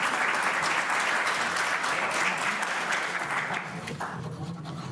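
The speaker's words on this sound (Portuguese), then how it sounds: "os nossos aplausos especiais mais uma vez" Sustained audience applause fills an auditorium at a Brazilian business awards ceremony, loud and dense at first, then gradually thinning and fading toward the end with no voices over it.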